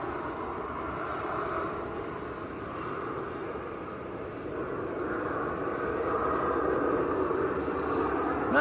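A Jet2 airliner at Manchester airport on a misty, grey day gives off a steady broad engine roar that swells slightly toward the end, distant and continuous with no voices.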